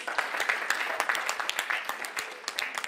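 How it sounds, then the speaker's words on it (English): A conference audience claps, with sparse, distinct handclaps at a moderate distance forming a brief, fairly quiet round of applause. "We can clap for ourselves."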